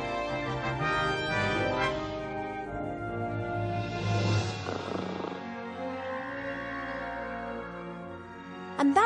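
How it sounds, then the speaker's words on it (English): Slow, purring snores from a sleeping character in the adventure game The Book of Unwritten Tales 2, rising and falling softly over a continuous musical background for several seconds. "that's the sound of Cheep Cheep snoring"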